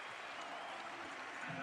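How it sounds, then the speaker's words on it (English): Steady applause from a large crowd inside a basketball arena at a women's wheelchair basketball game at the London 2012 Paralympics, a continuous wash of clapping without distinct peaks. "And another big crowd here inside the basketball arena, appreciating what they're seeing."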